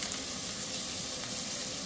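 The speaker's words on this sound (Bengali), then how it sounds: "তেলে পেঁয়াজটা ব্রাউন হওয়া পর্যন্ত ফ্রাই করব।" Onions and spices frying in hot oil for a goat meat curry, a steady close sizzle and crackle filling the whole moment with no voices.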